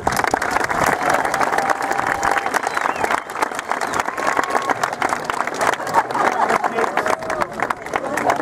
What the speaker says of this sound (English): Let's give an applause to these great people.